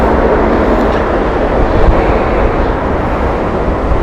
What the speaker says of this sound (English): This is Air Canada 777 that we're watching, taking off from Heathrow, going to Vancouver